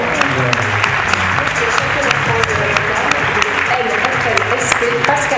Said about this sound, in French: Sous vos applaudissements, ils vont arriver d'ici quelques secondes.